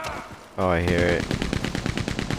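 Rapid gunfire in Red Dead Redemption 2, a close burst of repeated sharp shots following a brief shouted voice at the start.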